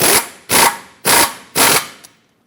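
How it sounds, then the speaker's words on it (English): A power tool with a 21mm socket tightens a tie rod nut on a 2003-2009 Dodge Ram 2500. Four loud, close, evenly spaced bursts of whirring are followed by a brief final tap. "21mm socket, tighten this up."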